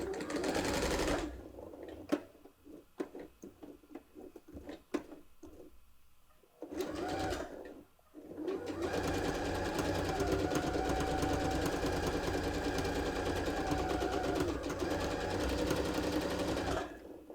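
A sewing machine stitching a mermaid purse runs in short bursts of rapid stitching with pauses between them, then settles into one long steady run, close and loud with no talk.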